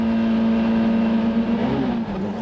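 A Citroën C2 Super 1600 rally car accelerates on the Lavaret rallycross circuit, its engine droning loudly and steadily from close by, with a pitch shift near the end as the throttle changes.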